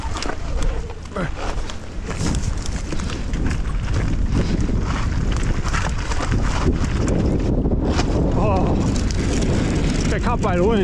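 Wind blows across a bike rider moving through a bike park built in an old quarry. It makes a loud, steady roaring buffet over the rattle of the ride, with a voice partly audible underneath.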